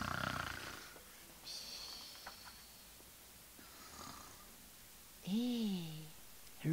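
A storyteller imitates a bear snoring in its den, giving a few soft breathy snorts and then one louder, drawn-out rumbling snore with a wavering voiced tone near the end.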